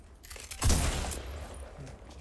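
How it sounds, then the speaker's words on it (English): Pistol gunfire in the Fortnite video game: a burst of sharp shots near 0.6 seconds followed by a decaying rumble, with faint further cracks behind it and no voices. "I'm really enjoying my pistol."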